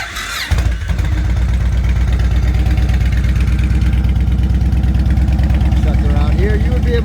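A 2006 Yamaha Warrior ATV engine cranks and catches, then settles into a loud, steady idle, a close, even rhythmic thrum that fills the rest of the clip.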